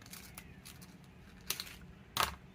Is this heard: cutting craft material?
yes